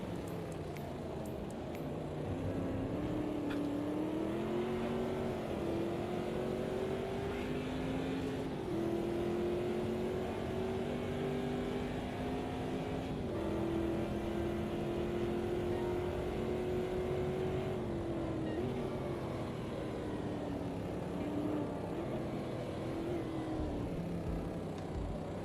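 Race car engine in the Automobilista 2 sim racing game, drifting at light throttle: a steady, droning engine note that rises and falls in pitch over about 25 seconds, continuous and loud with no talk.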